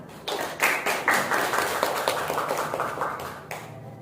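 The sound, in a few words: applause for Mira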